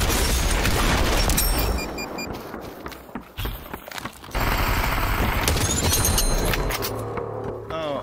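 Gunfire in the VR battle royale game Population: One comes as loud bursts of shots and booms that fade into scattered quieter stretches before the firing picks up again.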